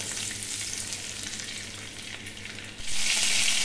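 Cumin seeds sizzling in hot oil for a tempering, a dense steady hiss that swells louder near the end, close and with no talking.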